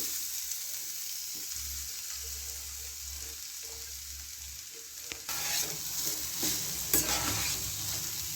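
A spiced vegetable mixture for Bengali veg chops sizzles and fries in a pan while being stirred, with a steady soft crackling hiss and occasional scraping and clinking, fairly quiet and with no voices.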